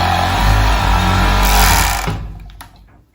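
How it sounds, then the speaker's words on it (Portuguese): A sewing machine runs steadily for about two seconds, joining sweatshirt fabric pieces to form a cuff, then winds down and stops, leaving a few faint handling clicks. "eu vou passar uma costura para unir esses tecidos formando o punho"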